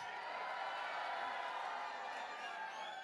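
A press conference crowd at a boxing event for Manny Pacquiao and Mario Barrios roars and cheers steadily, a dense, continuous wash of voices and noise from a large audience throughout.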